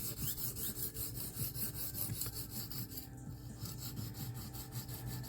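A small knife drawn freehand across a Norton India oilstone, giving a steady rhythmic rasping scrape of steel on stone with repeated strokes, close and fairly loud throughout.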